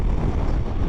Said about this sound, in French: le vent il est terrible